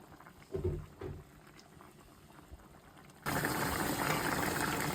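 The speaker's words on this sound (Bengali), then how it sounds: "মানে বলক দেওয়া হইব" Koi fish curry with dried lentil vadi bubbling in a pot, a steady broad boiling hiss that jumps suddenly louder partway through after some quieter clinks and handling noises.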